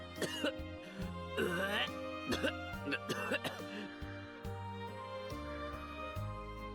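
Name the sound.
man coughing and hacking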